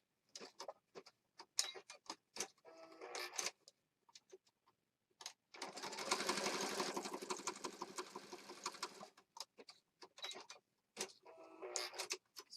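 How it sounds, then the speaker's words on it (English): Sewing machine stitching embellishments for a junk journal card, quiet close-up bursts of rapid mechanical ticking, with a sustained whirring run of about three seconds in the middle and shorter stop-start stitching on either side. "So just added the stitching to those"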